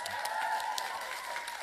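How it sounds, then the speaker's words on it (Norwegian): Game show audience applause, a short steady burst of crowd clapping and light cheering at moderate volume, with no talk over it. "applaus!"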